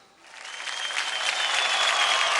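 Applause from a dance TV show audience swells quickly from quiet to full, dense clapping and keeps building to a loud, even peak over a couple of seconds.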